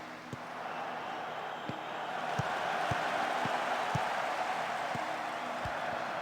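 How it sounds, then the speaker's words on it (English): Continuous stadium crowd murmur from a match in the game Football Manager 2021, a broad steady roar with a few faint sharp knocks scattered through it and no talk. "I'm so sorry that the crowd is so loud."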